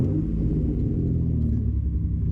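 A project car's engine, one said to crank slowly from a weak starter or battery, runs with a steady, loud, close low rumble that holds even throughout.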